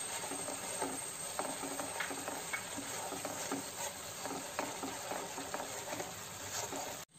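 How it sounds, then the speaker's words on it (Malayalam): Bread halwa is stirred in a hot pan, a soft, steady sizzle under repeated scraping and tapping strokes of a spoon against the pan. The sound is faint and close, with no voices. "കൈ എടുക്കാണ്ട് തന്നെ ഇളക്കിക്കൊണ്ടിരിക്കുക, അല്ലെങ്കിൽ അത് അടി പിടിക്കും കേട്ടോ"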